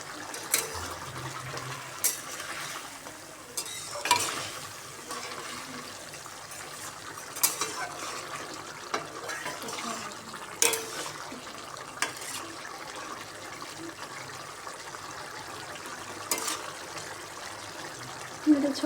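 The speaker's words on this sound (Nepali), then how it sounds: "बनिसक्यो, उम्लिँदैछ" A pot of wild mushroom curry boils on the stove while being stirred, with soft bubbling, liquid gurgles and intermittent scraping clinks, faint and close, with some background talk.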